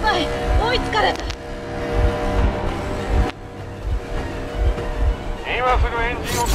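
A vehicle engine runs in Metro Exodus as a loud, rough, continuous rumble with wind-like rushing, while voices speak over it.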